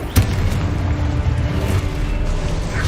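Spell explosions from Exposo and Confringo cast in Hogwarts Legacy, a sharp blast opening into a continuous rumbling, crackling roar that holds at steady loudness, with no talk.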